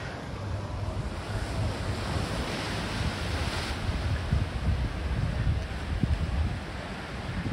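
Gentle ocean surf washes steadily onto the shore at Lagoa in the Azores, Portugal, a continuous low roar with some wind buffeting across the microphone and no speech.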